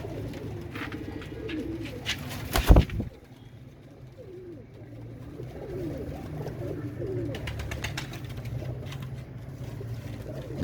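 Royal Teddy pigeons coo softly in a low, repeated murmur, with a sharp knock near the start and faint background noise throughout.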